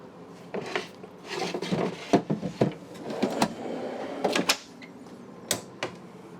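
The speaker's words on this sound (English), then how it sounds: "you slide your sink covers right here so they're out of the way." Sink covers slid and set aside in the kitchen of a 2023 Tiffin Allegro Bus 45 OPP motorhome, giving a run of close wooden knocks, scrapes and clacks with a few sharp thumps, no talking.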